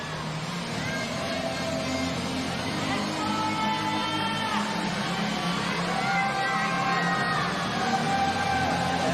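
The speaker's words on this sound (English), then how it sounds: "You can hear the crowd screaming her name up at the wall." Spectators at a world championship lead climbing final in Seoul cheer and scream steadily, a dense crowd roar with rising whoops that swells a few times across the whole stretch.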